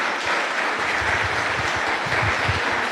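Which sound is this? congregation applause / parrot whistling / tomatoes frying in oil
congregation applause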